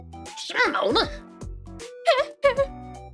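A person vocally imitates Michael Jackson-style vocal stims, quick pitched yelps, hiccup-like whoops and sliding squeals in short bursts with brief pauses between.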